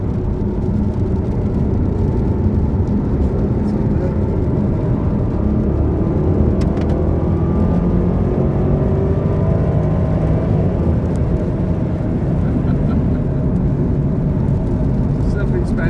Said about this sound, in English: Something special about that AJ engine.